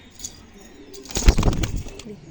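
A restless pigeon with deep red feet, handled and released, gives a burst of wing flapping and soft cooing that peaks briefly mid-clip, close and fairly loud, with quiet noise before and after.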